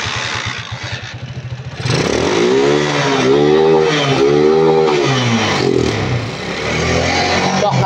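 A Honda TMX155 motorcycle engine starts after a few cranking pulses and idles roughly, sputtering and misfiring, with an uneven rhythm close up. A person talks over part of it.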